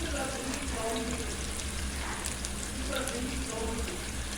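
Small onions sautéing in a pan as the base for a seer fish curry, giving a steady, even sizzle and crackle that runs unbroken throughout.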